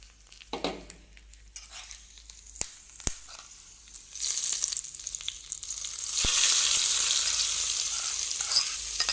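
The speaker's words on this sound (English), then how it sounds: "It's time to add the tadka to our Lauki ki sabzi." A hot tadka tempering is poured into bottle gourd (lauki) sabzi. After a few scattered clicks and a quieter start, a loud, dense sizzle bursts in and holds steady. No voices.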